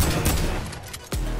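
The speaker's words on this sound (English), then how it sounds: "He's just shooting at me." Rapid gunfire in Fortnite, a dense burst of loud shots that fills the whole clip, breaking off briefly near the end before a heavy low thud.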